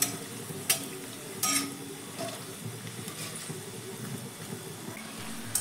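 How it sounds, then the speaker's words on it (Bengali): Semolina and onion pakoras deep-frying in hot oil over a medium-high gas flame, giving a steady close hiss broken by a few sharp pops. "দিয়ে পকোড়াগুলোকে ভেজে নিচ্ছি"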